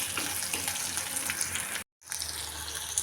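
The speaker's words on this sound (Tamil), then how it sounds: "வெங்காயம் நல்லா வதங்கி வரட்டும்." Sliced small shallots sautéing in oil in a pan, a steady close sizzling hiss that cuts out briefly for a moment before resuming.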